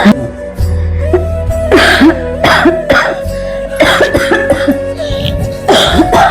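Several harsh coughs and throat-clearing bursts repeat in uneven clusters, close and loud, with a steady tonal hum running underneath.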